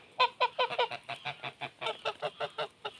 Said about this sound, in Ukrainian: Он ще й сусідські гуси.